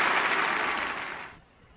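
Audience clapping at the 2003 Grammy awards, a dense wash of applause that holds steady briefly and then fades out.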